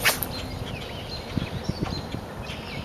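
A lure cast with a Bass Pro Shops Extreme ETX10HLE baitcast reel: a quick whip-like swish, followed by a few soft ticks and a light, smooth line spin-out, fairly faint and close.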